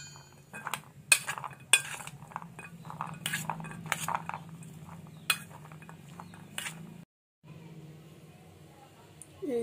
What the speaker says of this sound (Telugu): ఫస్ట్ మనం ఉల్లిపాయలు, టమాటో, చిల్లీస్ దీంట్లోకి వేసుకొని మిక్స్ చేసుకోవాలి.